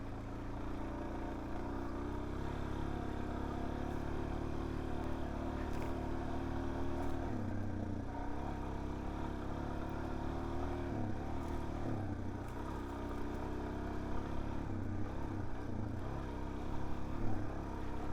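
A Suzuki DRZ 400S motorcycle ridden along a trail, its engine droning steadily throughout, with pitch dipping and rising as the throttle shifts, heard close and continuous without talking.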